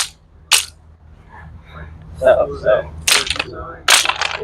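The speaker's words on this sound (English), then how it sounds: "It's got a bamboo crack in there. I can hear it clicking." A cracked bamboo practice sword used in a Florentine two-weapon fencing drill gives several sharp, close clicks and cracks on impact, spaced irregularly, with faint voice sounds in between.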